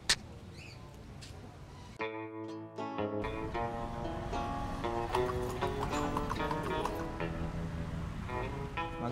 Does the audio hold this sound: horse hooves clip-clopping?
yes